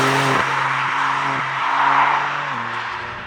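A Porsche 911 992.2 Carrera S flat-six driven hard: a loud, continuous engine note that steps through several quick gear changes, with road and wind roar behind it.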